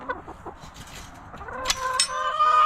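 Hens and a rooster named Rudy clucking and calling in a farmyard at morning feeding time, a busy layered flock chatter that grows louder and denser toward the end, with a sharp squawk near the middle.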